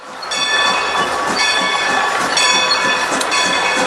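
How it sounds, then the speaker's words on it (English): A steam train on the Strasburg Rail Road rumbles steadily nearby as it runs around its train to couple to the rear, with a rhythmic clatter and faint metallic squeal, a continuous loud mechanical drone throughout. "it would then run around the train and couple up to the rear"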